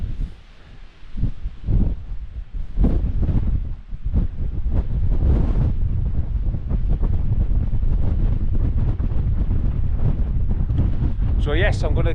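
Strong wind buffets the microphone on an exposed moor while a Trailstar tent is pitched, a loud, steady low roar that builds and then holds, with faint rustling throughout.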